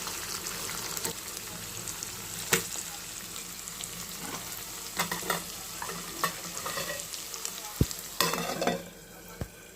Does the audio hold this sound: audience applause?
no